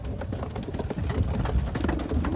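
Young racing pigeons coo softly while being carried before a 150-mile race, their low calls half-buried under steady rumbling background noise.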